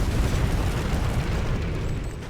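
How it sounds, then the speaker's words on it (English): Heavy, continuous rumbling explosions from inferno cannon fire hitting central defenses in a real-time strategy game match on the Desolated District map, a dense booming roar with no talk. "Inferno cannon starting to take out the central defenses of Neo as well."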